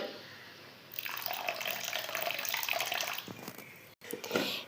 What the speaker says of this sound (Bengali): এবার এর মধ্যে দিয়ে দিচ্ছি উষ্ণ পরিমাণে গরম জল